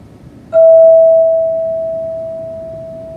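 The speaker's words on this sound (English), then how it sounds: "I'm going to ring the bell, and when you can no longer hear the bell, please open your eyes." A single clear bell strike for a mindfulness exercise rings out as a pure, sustained tone that slowly fades over several seconds in a quiet room.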